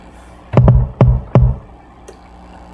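Lower kick drum sample in a hip-hop beat remake, filtered to the low end: three deep, booming hits, the first doubled, loud and close with short decaying tails and nothing else playing.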